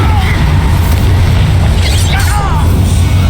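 The Bombarda spell in Hogwarts Legacy sets off a deep booming explosion, a low, loud rumble sustained throughout with whooshing magical effects layered above.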